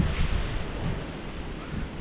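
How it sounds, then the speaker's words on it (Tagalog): Strong wind sweeps across an outdoor papaya farm, a steady gusting roar with low rumbling buffets against the microphone, continuous and fairly loud throughout. "Mas malakas po ang hangin ngayon compare kagabi"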